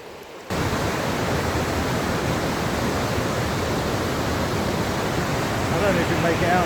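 Water rushes steadily behind ice at Brattfallet in Värmland, a dense, continuous roar of flow that starts abruptly and holds at even loudness throughout.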